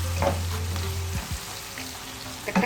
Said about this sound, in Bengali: আমি আরেকটু ভেজে নিলাম